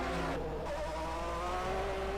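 David Saber's Ferrari Formula 1 car at the 1991 Australian Grand Prix drones steadily with a high engine whine that slowly climbs in pitch, heard from an onboard position under constant broadcast noise.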